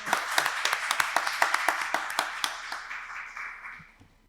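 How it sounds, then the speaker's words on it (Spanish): Applause after a talk on employment guidance, with a few individually distinct claps in a steady rhythm at first, then fading into softer scattered clapping. "Un aplauso."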